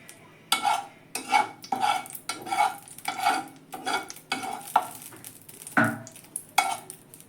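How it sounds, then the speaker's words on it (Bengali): Egg batter sizzles in a nonstick pan on a gas stove while a spatula stirs and scrapes it in about a dozen rhythmic strokes, close and fairly quiet. "ডিমের গুলাটা দিচ্ছি কিছুটা"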